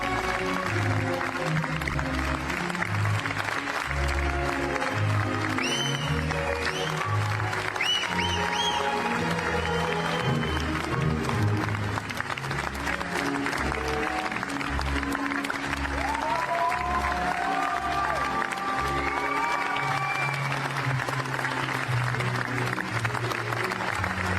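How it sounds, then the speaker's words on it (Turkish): A theatre audience applauds the cast of the play Bulaşıkçılar at the end of the performance, a continuous dense clapping with several rising and falling whistles cutting through, heard close and loud. "Oyun sonunda Kıvanç Tatlıtu, Bulaşıkçılar oyununun ekibini ıslıklar ve alkışlarla böyle tebrik etti."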